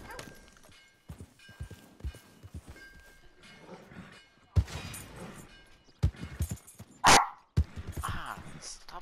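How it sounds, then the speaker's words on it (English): Dog barking in the video game Red Dead Redemption, several sharp barks scattered among gunshot-like bangs and game effects, with someone talking over the action. "Ah, stop barking."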